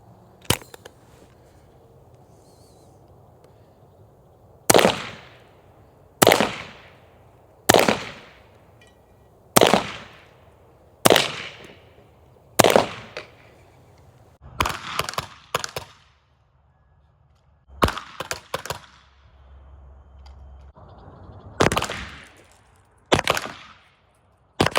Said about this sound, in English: I put in here 6 very lightweight nylon plastic balls, and I'm gonna shoot 3 shots to the chest, 3 shots to the head